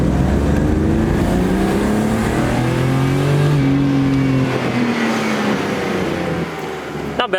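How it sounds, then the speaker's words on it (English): An automatic drift-project car pulls hard through first gear, its engine rising loud and close in a sustained climbing rev that holds for several seconds before easing off at the end. "I'm gonna do a quick little pull here, just a first gear pull"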